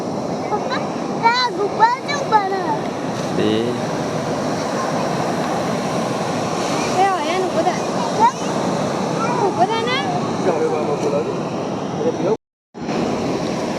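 Sea waves wash onto the seashore in a steady broadband roar that runs through the whole stretch, with voices talking over it and a brief cut-out near the end.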